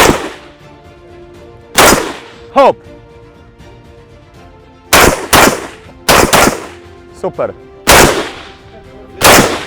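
AK-47 rifle shots ring out at an outdoor shooting range during dynamic drills, sharp loud single cracks spaced a second or two apart, with a coach's short spoken commands between them.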